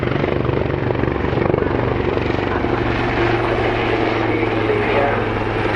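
Royal Navy Westland Wildcat and Wasp helicopters fly in formation at an airshow, a steady loud rotor and engine drone holding throughout with faint voices beneath.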